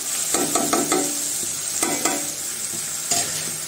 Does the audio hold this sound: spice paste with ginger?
yes